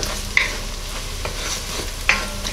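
Onion, garlic and bacon sizzle in a pot for corn chowder, a close, steady crackle broken by two sharp spoon clinks against the pot.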